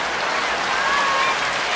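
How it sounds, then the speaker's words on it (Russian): Dense, steady applause from a large concert audience, a continuous wash of many hands clapping at close range with no voices over it. "аплодисменты!"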